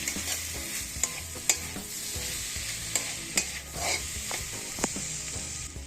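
A spoon stirs cumin and turmeric powder in a hot pan for khichuri, clicking and scraping at an irregular pace over a steady frying sizzle.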